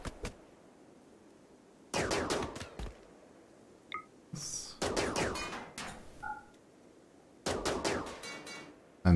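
Scattered bursts of gunfire in RimWorld, several short clusters of rapid shots separated by near-silent gaps, with a few small beeps between them.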